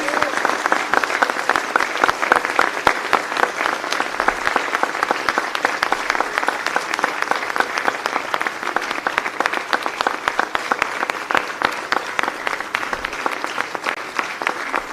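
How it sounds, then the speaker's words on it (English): A graduating school class of 2022 gives their parents a thundering round of applause at a graduation ceremony, dense sustained clapping from a large crowd filling the hall for about fifteen seconds at steady loudness. "give a thundering round of applause for their parents"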